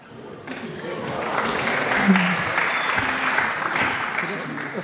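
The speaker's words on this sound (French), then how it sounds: "applaudissements" Steady applause from an audience, building after a quiet start and sustaining at moderate loudness throughout.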